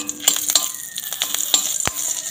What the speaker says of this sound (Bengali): ঘিয়ের মধ্যে দিয়ে দিচ্ছি সামান্য গোটা জিরে, দিয়ে দিচ্ছি একটা কাঁচা লঙ্কা টুকরো করে নিয়েছি